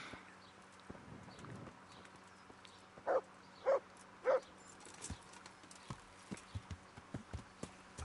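Horse hooves clip-clop on a forest path in the medieval role-playing game Kingdom Come: Deliverance, a few spaced steps then a quicker run of lighter strikes over a low ambient bed.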